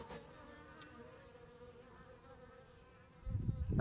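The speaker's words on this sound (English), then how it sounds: "I really think the bees have flown more this year, this winter, than they've been clustered up in the hive." Honey bees fly around a hive on a winter day in northern Kentucky, making a soft, continuous buzz with a louder low rumble at the end.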